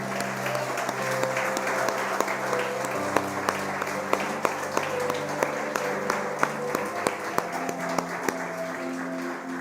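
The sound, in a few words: applause for the Lord in church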